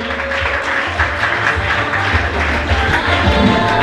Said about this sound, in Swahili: Weka makofi kwa ajili yake.